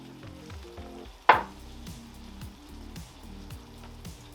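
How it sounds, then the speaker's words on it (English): Carrots dropped into a hot pan of pineapple chicken, one sharp loud sizzle burst as they land, then a steady frying hiss under faint background music. "now we're going to go ahead and add the carrots"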